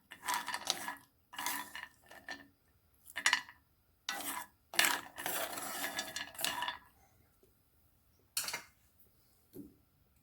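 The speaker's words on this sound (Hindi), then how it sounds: "इस तरह से चम्मच चला के इसको अच्छी तरह भूनना है" Almonds roasted in a little oil in a pan, a spoon scraping and rattling them in repeated bursts of dry metallic stirring with short pauses between, close and clear.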